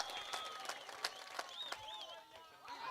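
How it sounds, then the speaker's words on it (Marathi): A crowd at a cricket match super over claps and cheers in scattered bursts, with whistles and voices rising over the clapping. "टाळ्या वाजत राहिल्या पाहिजे"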